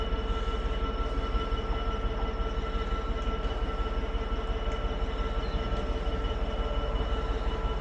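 A Class 360 electric train, formerly used on Anglia Railway services, arrives at a station platform with a steady, droning electric hum and rumble, continuous and moderately loud, with no voices.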